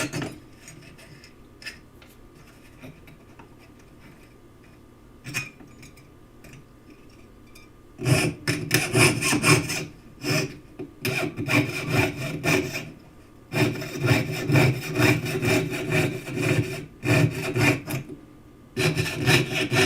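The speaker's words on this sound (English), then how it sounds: "I'm sawing to the inside of the line because that is closest to the pattern" A hand saw cuts through a wooden workpiece along a pattern line, quiet scraping at first, then loud rhythmic back-and-forth strokes in bursts with short pauses between.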